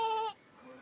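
A single goat gives a short, loud, nasal bleat that breaks off within a moment and leaves faint background behind it.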